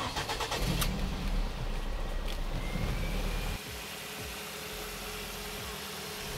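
A used Ford car's engine cranks and catches, then settles into a steady low idle, heard close and alone with a constant hum after the start.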